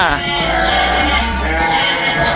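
Goat bleating at a temple farm in Samut Songkhram, Thailand: a loud, close, wavering bleat lasting most of the moment, over a busy noisy background with faint voices.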